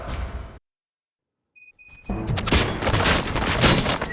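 Gunfire in RoboCop: Rogue City, a loud burst of crashing shots and impacts after a brief silence and a few short electronic beeps, dense and harsh to the end.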